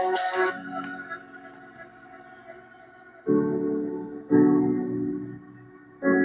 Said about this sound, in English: Now we've got music playing through the amplifier from the tablet.